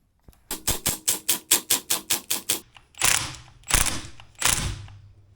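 A Jaguar E-Type front-end part is tightened with a ratchet: a fast, even run of about a dozen sharp clicks, then three louder, heavier ratcheting strokes, close and alone.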